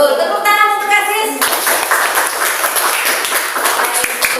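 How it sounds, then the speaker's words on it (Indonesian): A classroom of children claps for a student, a burst of quick overlapping hand claps that follows a brief stretch of a voice and continues loud and dense to the end. "Tepuk tangan untuk Aziz."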